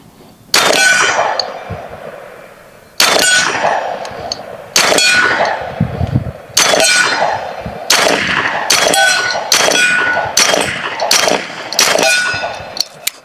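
A BinTac S45 .45 caliber semi-automatic airgun fires about ten loud, sharp shots. Each is followed by a bright metallic ring, and the shots come closer together toward the end.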